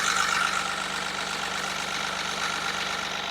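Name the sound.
Mahindra Bolero Neo 1.5-litre three-cylinder diesel engine running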